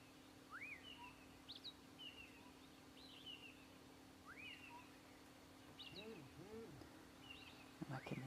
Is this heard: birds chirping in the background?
yes